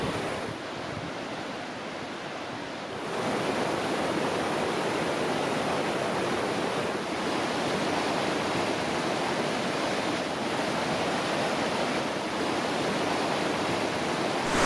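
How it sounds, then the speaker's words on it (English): A small waterfall at a river pool near Te Waikoropupū in New Zealand, a steady broadband rush of falling water, loud and continuous, growing a little fuller after the first few seconds, no voices. "here, little waterfall"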